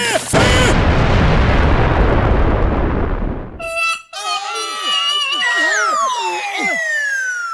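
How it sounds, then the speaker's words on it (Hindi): A loud cartoon explosion from Motu Patlu roars as a long rumbling blast for several seconds, then cuts to squeaky, bouncy cartoon voices and whooshing effects. "ब्लास्ट हो रही है।"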